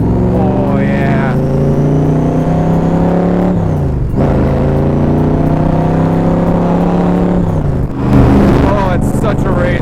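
A loud 1965 Backdraft Shelby Cobra engine revs hard and climbs in pitch through the gears, with sharp shifts and a renewed surge of acceleration near the end.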